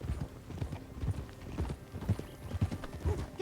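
Horse hooves clip-clop steadily in Red Dead Redemption 2, a close, rhythmic trot that carries through the whole passage with no voices over it.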